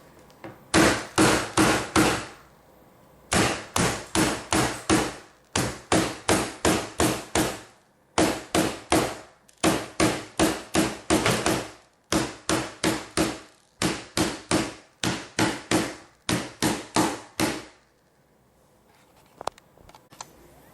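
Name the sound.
hammer tapping tacks down on leather knife scabbard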